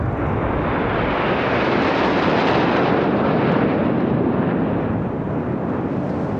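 Fighter jets roar past at high speed, about 750 km/h, in a flypast display near Bikaner, a loud, sustained, broad rushing thunder that stays steady throughout with no speech.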